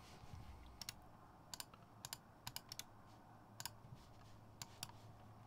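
Typing on a Hive60 mechanical keyboard with NK Yellow switches and a copper build, with irregular clusters of sharp, fairly faint keystroke clacks over a steady background hiss.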